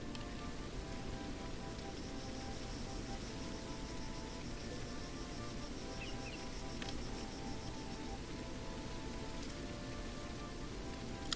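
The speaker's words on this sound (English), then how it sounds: "And the rain is what creates these water puddles that you're seeing." Rain falls in the video game The Great Circle, an African wildlife game, as a steady, faint hiss with soft scattered drops that keeps up evenly throughout, without a break.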